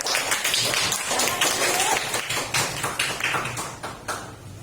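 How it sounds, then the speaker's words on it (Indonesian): Classroom of students clapping for a student group, a dense burst of hand claps that thins out and fades over a few seconds, close and fairly loud. "beri tepuk tangan juga untuk kelompok truk"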